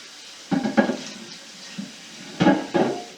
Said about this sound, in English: Cutting board, we'll just rinse that off.